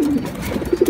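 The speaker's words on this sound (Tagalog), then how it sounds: "Bali, ilan na tong kalapating nandito?" Pigeons cooing close by, a few soft, low throaty coos in quick succession, heard alone.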